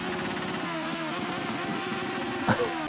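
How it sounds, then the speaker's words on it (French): A motorcycle engine runs at a steady mid-pitched idle nearby, with a brief sharper burst near the end. "Voilà, une moto."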